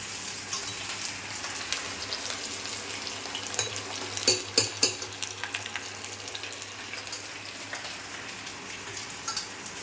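Sliced potato chips frying in hot oil, a steady dense sizzle and crackle with a brief burst of louder popping partway through, close and continuous.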